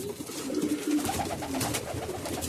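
Caged pigeons coo, low soft rolling calls repeating close by over a light background hum, with no talk.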